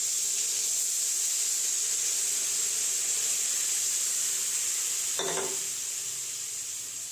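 Mustard paste for hilsa curry sizzling loudly in a hot pan, a steady close frying hiss, with a brief burst of spattering as a splash of water goes in, then the sizzle slowly softening.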